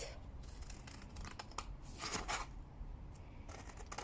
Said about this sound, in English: And then what you can do is cut your shape out.